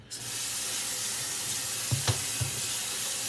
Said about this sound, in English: Now I am rinsing all my noodles with cold water at the moment, because I want to stop them from cooking.